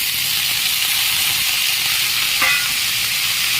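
Ivy gourd and sliced potato fry in hot tempering oil, giving a loud continuous sizzling hiss close up, with one brief sharp crackle partway through.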